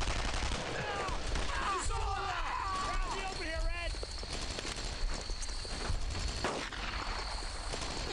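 Battle noise from the video game Brothers in Arms: Earned in Blood, with dense, continuous gunfire and chaotic combat clamor, while voices shout throughout.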